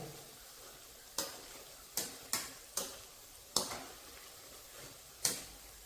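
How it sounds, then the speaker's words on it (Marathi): Onion bhaji frying in oil over a medium gas flame: a soft, low sizzle broken by about six sharp metallic clicks and taps of a slotted spoon against the pan, spaced irregularly, fairly quiet and with no voices. "भजी तेलात सोडून झाल्यानंतर मिडियम गॅसवरती आपल्याला भज्यांना चांगला लाल कलर येईपर्यंत मस्त अशी तळून घ्यायची आहेत."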